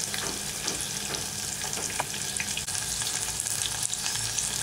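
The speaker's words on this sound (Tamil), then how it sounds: "இப்போ நம்ம நல்லா வதங்கிடுச்சு" Onions sautéing in a pan for a tamarind gravy, a dense continuous sizzle and crackle with occasional stirring scrapes, close and steady throughout.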